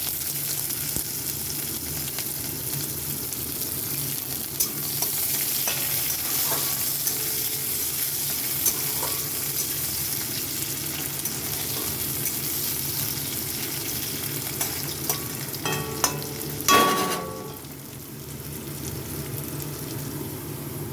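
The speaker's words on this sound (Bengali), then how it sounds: "এখানে দিয়ে দিচ্ছি রসুন, এখানে দিয়ে দিচ্ছি কুচানো পেঁয়াজ" Garlic and chopped onion fry in a pan with a long, even sizzle and occasional utensil taps. A louder stirring clatter comes near the end, then the sizzle settles softer. No voices are heard.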